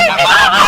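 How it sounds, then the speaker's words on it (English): A goose honks loudly and continuously at close range, a brassy, nasal call that wavers in pitch over a brief moment with no other sounds. "Goose."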